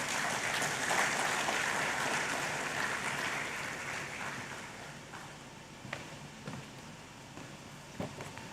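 An audience applauds to welcome Lieutenant General William Ejapon at a defence conference, a sustained wash of clapping that gradually fades, with a few louder thumps toward the end.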